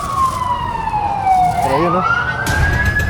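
A fire truck siren wails nearby, sweeping down in pitch and then rising again over steady road and traffic noise.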